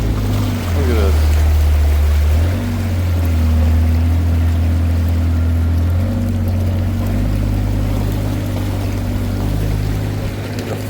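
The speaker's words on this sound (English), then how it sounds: "The flow of this water is just crazy." Tupper Brook floodwater rushes over flooded land in a loud, constant roar, with a steady low engine-like drone underneath and brief muffled voices.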